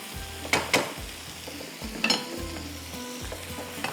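A wooden spoon stirs and mashes shrimp chow mein in a non-stick pan, giving repeated scraping strokes and soft knocks against the pan over a low sizzle, close and with no talk.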